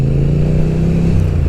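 BSA motorcycle engine roaring as the bike pulls away from a roundabout, a loud, close, steady throaty drone with a chugging pulse, heard alone.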